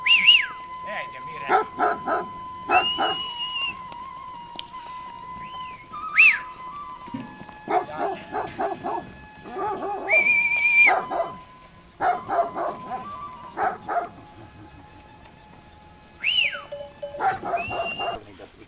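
Dogs barking near a sheep dairy in the meadows around Veles, repeated sharp barks and yips in uneven bursts at moderate distance, with whimpers and whistling and people talking in between.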